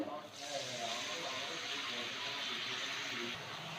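Water gushes steadily for about three seconds into a pan of turmeric and Kashmiri chilli powder while cooking a prawn and pui (Malabar spinach) chachchari, fairly loud with a broad rushing hiss.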